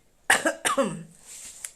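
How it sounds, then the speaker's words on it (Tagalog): Two short, harsh coughs close to the mic, one right after the other, followed by quiet breathy noise and a faint click. "My God, inuubo talaga ako."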